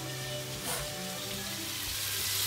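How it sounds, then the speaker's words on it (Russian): Food fries in a pan in a home kitchen, a steady soft sizzle heard from a short distance, low in level and continuous throughout. "О, тут что-то жарится."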